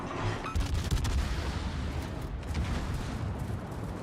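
Naval guns fire a salvo in World of Warships, a dense, loud run of overlapping booms and blasts with rumbling low end that continues throughout, with no talking.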